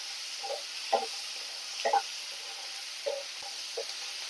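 Tomato chutney ingredients with salt being stirred and sautéed in a pan, a faint steady sizzle broken by a few soft, separate spoon scrapes.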